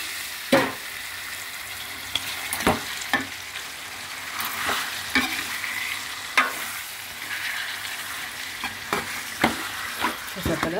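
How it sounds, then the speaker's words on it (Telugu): Chicken with onions sizzles and fries in a pan, a steady close crackle broken by repeated sharp scraping stirs of a spoon against the pan, with no talking. "చికెన్ అంతా మొత్తం అంతా మనం ఫ్రై చేసేసుకోవాలన్నమాట"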